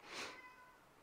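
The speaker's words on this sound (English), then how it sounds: "if you can hear my cat in the background" A house cat cries from behind a closed door, one faint drawn-out meow that falls off and fades, muffled and distant in a quiet room.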